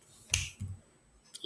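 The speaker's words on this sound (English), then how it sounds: "Snap my fingers." A teacher gives a single crisp finger snap, close and sharp, during a second-grade math lesson, with a softer tap just before it and a faint click near the end in an otherwise quiet room.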